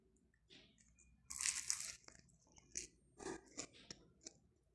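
A crispy chicken barquette pastry being bitten and chewed close up: a loud crunching bite followed by several softer irregular crunches and chewing sounds in a quiet room.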